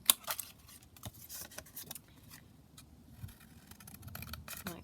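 Scissors snipping through craft material in a tutorial, heard as a run of short, crisp cuts close by with faint handling rustle between them and no talking.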